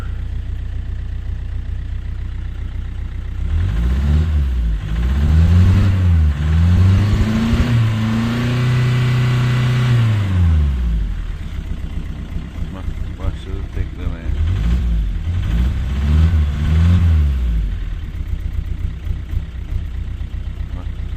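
An Opel Vectra diesel engine runs close by, rising and falling through repeated loud revs in two separate bursts, with a steady idle in between.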